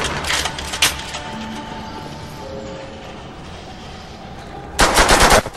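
Video game gunfire in World at War Zombies, loud sharp rapid bursts at the start and again near the end with a quieter mechanical stretch between.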